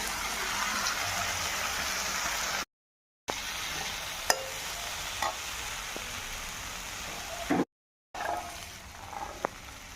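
Soaked mung dal for sabu khichuri is added to a hot pan and stirred, giving a continuous sizzling hiss with scattered spoon clicks and two short silent cuts.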